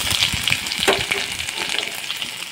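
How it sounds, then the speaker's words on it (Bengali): Chopped ginger with a bay leaf and whole cumin sizzles steadily in hot mustard oil in a pan, a close, continuous frying hiss with a few soft crackles and stirring scrapes. "আদা কুচি থেকে হালকা একটু ভেজে নেব।"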